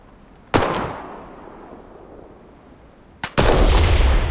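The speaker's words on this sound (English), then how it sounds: "I'm gonna throw my grenade." Grenade blasts in the battle royale game Cuisine Royale: two sharp, loud explosions, the first booming and fading over a couple of seconds, the second followed by a heavy rumbling burst, with no talk.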